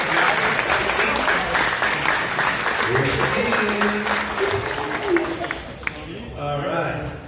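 An audience at a live stage event at Pixel Studios applauds and cheers loudly in a steady, dense roar that thins out near the end as a voice comes in.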